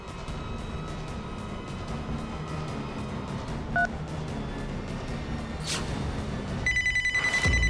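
A telephone dials with brief beeping tones, then a steady electronic ring begins near the end, all over a constant dense background hum in an indoor drama scene.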